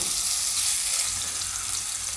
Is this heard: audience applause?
no